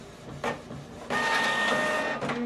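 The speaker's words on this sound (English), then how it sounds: "we are printing this document double-sided" Office printer running a double-sided job, a steady mechanical whir with paper-feed clunks and rising motor noise partway through, close and alone.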